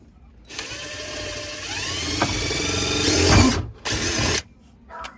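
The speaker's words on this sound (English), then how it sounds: "I'm going to drill a pilot hole first where I want the switch to be" A power drill whines and rises in pitch as it bores a pilot hole into a car's metal body, then stops briefly and bursts again, with a short final buzz.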